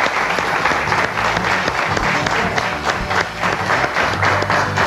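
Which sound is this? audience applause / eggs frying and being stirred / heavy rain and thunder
audience applause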